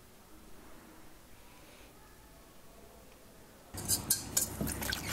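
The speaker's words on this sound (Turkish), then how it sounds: "Bu aşamada çırpıyorum. Yumurtayı böyle şekerle çırpmak e, kokusunu azaltmak için bir yöntemdir." A whisk rattles quickly against the side of a bowl while an egg is beaten with sugar, a bright rapid clinking that starts after a quiet stretch and goes on to the end.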